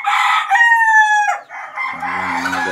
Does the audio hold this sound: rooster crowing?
yes